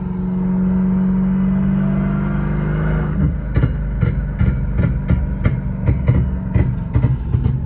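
A 6-speed swapped Hellcat Charger with a drift and flame tune idles with a loud, deep drone, then breaks into a rapid, uneven burble of crackling pops close by.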